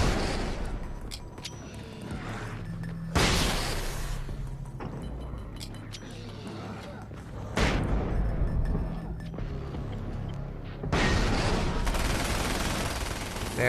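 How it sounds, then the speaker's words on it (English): Flashbang grenades go off in the Alan Wake's American Nightmare video game, loud broadband bursts arriving in three or four waves over a busy stream of game noise, with no talk. "Flashbangs."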